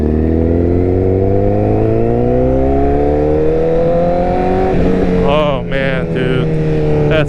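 A Honda 1000cc motorcycle engine holds a loud, steady high rev with a rising pitch, then revs briefly and sharply near the end.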